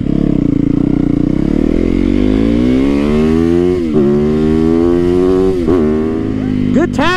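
A Yamaha VMAX motorcycle engine revs hard and loud during wheelies, its pitch sweeping up and down through several surges with brief throttle blips, close and continuous throughout.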